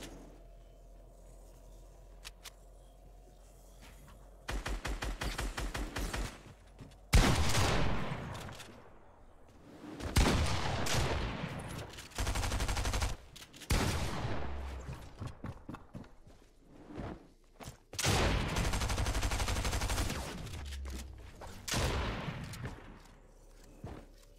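Repeated bursts of gunfire in loud, broad volleys separated by short pauses, sometimes rapid like automatic fire, with almost no talk.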